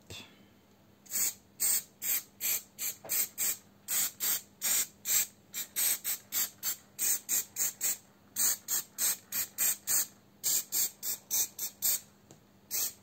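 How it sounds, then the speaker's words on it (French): Spray glue hissing from an aerosol can onto a Christmas decoration with a pine cone, many short bursts in quick rhythmic succession for over ten seconds, close and sharp, with no talk. "Donc je prends de la colle en spray."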